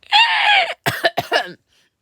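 A strained, raspy vocal sound is followed by a few sharp coughs in quick succession, close and loud, then silence.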